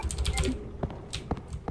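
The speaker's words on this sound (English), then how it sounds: "I also have to apologize if the keyboard mashing is loud. I use blue switches." A mechanical keyboard with blue switches is mashed during play of Resident Evil 2, giving a short burst of quick, sharp, clicky keystrokes followed by a few scattered clacks, close and moderately loud.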